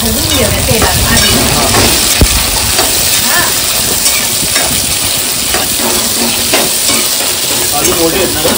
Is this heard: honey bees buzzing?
no